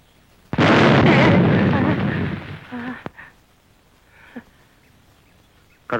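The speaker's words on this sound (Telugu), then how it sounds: "ఏంట్రా ఇక్కడ నాటు బాంబులు ఉన్నాయే?" A sudden loud blast from crude country bombs bursts out and roars for a couple of seconds, then dies away into a few faint, scattered noises.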